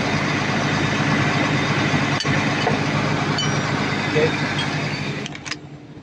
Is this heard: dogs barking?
no